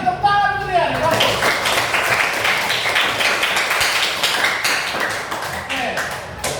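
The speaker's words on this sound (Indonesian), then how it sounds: "Tepuk tangan kalian." A class of students clapping together, dense sustained applause after a short voice at the start, filling the room at steady loudness throughout.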